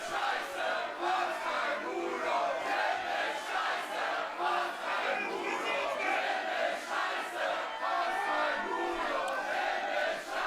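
A raucous wrestling crowd in a Berlin arena roars and chants at the opening bell, a thick, sustained wall of massed voices with rhythmic swells, distant and reverberant, steady throughout.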